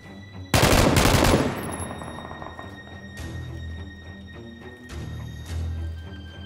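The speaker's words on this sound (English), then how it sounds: "Shots being exchanged, so there's at least two guys here" Gunfire in PlayerUnknown's Battlegrounds: a loud, close burst of rapid automatic shots opens, then sparser distant shots and rumbling echoes trail off, with another dull report later.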